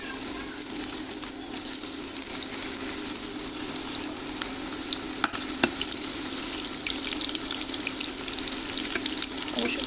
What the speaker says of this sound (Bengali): এবার আমি গাজরগুলো দিয়ে দেবো।